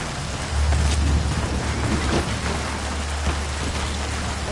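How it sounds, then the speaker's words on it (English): Steady rainfall in the video game Metal Gear Solid V, a continuous hiss of drops on surfaces with a low rumble underneath, heard alone without talk. "The sound of rainfall should help to mask your footsteps."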